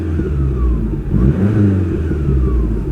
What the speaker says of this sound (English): we'll give it a couple of more revs.